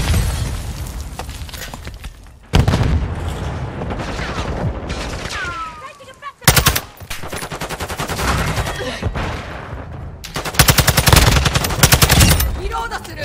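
In Modern Warfare 2 Hardpoint on the Embassy map, a grenade blast sharply breaks into sustained rapid gunfire from a TAQ-56 rifle and other weapons, with loud bursts of shots and a brief shattering hit, under occasional in-game voice callouts.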